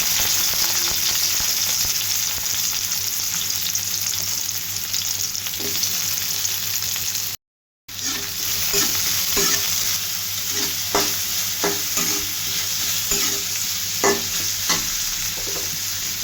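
Chopped onion sizzles loudly in hot oil for a long stretch, with scraping stir strokes and a brief cut to silence partway through.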